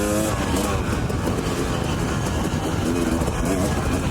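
A 1977 IT 175 two-stroke dirt bike engine running on a mountain ride near Idaho City, a loud steady drone close to the listener with wind rush and no talking.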